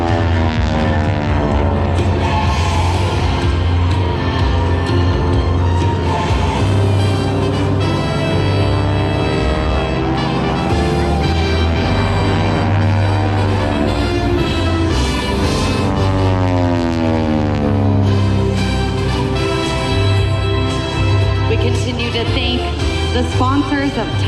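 Titan Aerobatic Team propeller airplanes drone loudly and continuously during a night airshow at Sun n Fun 2025, engine pitch sweeping up and down as they maneuver, with a voice talking over them.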